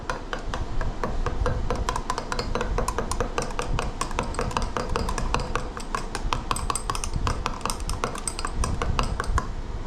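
Colorant being stirred into a soft plastic fishing bait mix, a rapid, continuous clatter of a utensil tapping and scraping against a container, close and steady throughout.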